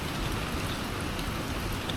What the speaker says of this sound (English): We had a lot of rain today.